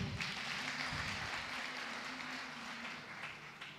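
A church congregation claps during a Sunday service, steady moderate applause from a crowd, somewhat distant and soft.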